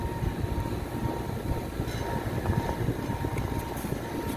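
An old rooftop air conditioning unit from around 1988 runs its blower with a steady, loud broadband whoosh and low rumble, continuous throughout without any talk.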